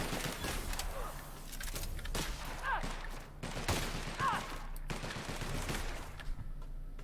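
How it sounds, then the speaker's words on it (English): Bursts of gunfire in the video game The Outer Worlds, several sharp volleys of shots spaced out over a few seconds, moderately loud with faint background sound between them. "Could have sworn I heard shooting on my right there."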